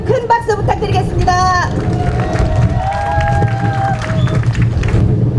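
Audience at a summer beach festival concert in Korea greeting the first performers, a duet including a soprano; clapping and crowd noise sit under a voice and a brief tonal, music-like sound.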